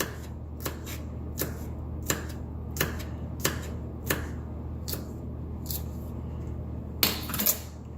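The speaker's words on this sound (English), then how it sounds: "I'm going to finish chopping up the other green onions." A knife chops green onions steadily on a cutting board, sharp evenly spaced knocks about every two-thirds of a second, close by, ending in a quick cluster.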